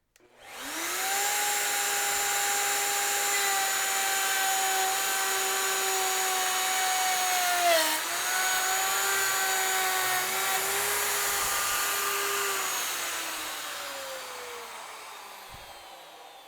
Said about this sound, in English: I've got our straight bit, 3/4 inch straight bit on the Bosch router